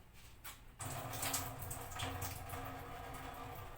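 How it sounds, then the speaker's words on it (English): Water pours out of an opened tofu package into a kitchen sink, a steady close splashing and trickling that starts suddenly and runs on continuously. "So I'm going to take it to the sink to get all the water out."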